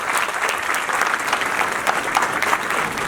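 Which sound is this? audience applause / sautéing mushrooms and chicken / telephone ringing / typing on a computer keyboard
audience applause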